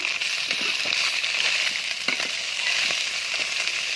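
Fish frying in oil in a kadai for an amudi fish curry, a steady close hiss and sizzle with faint crackles running throughout, no voices.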